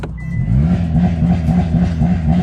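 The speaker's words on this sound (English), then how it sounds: "You just press launch control, make sure you're in drive, make sure the steering wheel is straight" Hyundai Elantra N engine held in launch control, a steady loud mid-pitched rumble with a pulsing rev rhythm and no rise, close and alone without talk.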